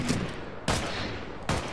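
Three loud gunshots ring out in Fortnite, evenly spaced about three-quarters of a second apart, each a sharp blast with a short echoing tail.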